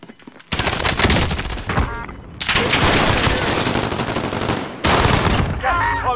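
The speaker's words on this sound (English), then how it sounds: "Throwing frag." Frag grenade blast and heavy automatic gunfire in the Call of Duty video game, loud dense bursts of shots with brief pauses between volleys, close and intense.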